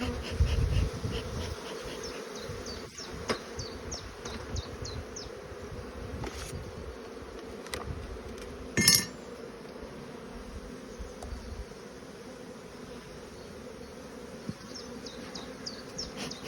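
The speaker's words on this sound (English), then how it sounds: "A lot of bees down here as well" Many honeybees buzz steadily and close by at an open hive in a dense drone, with a few soft knocks and rustles in between.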